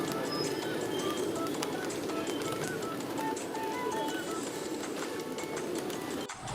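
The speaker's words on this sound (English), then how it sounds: "P-I-G-E-O-N. Pigeon." A pigeon, one of the common British birds, gives soft repeated coos over a busy outdoor background hiss, with the calls fairly faint and spaced out.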